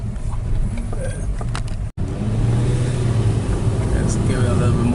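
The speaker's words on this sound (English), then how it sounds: "I'm just gonna take it for a spin, make sure everything is good before I give it back to the customer." A 2015 Toyota Fielder hybrid on a test drive after a transmission installation, giving a steady, fairly loud low road and engine rumble with a brief dropout, and a voice talking over it.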